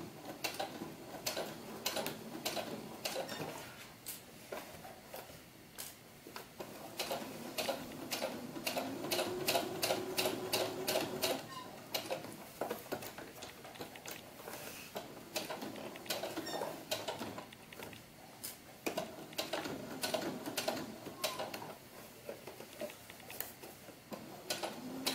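A sewing machine stitches the fabric of a historical ball gown for a doll in short bursts of quick, even ticking, with the rhythm speeding up and thickening midway through. The machine is close and no one speaks.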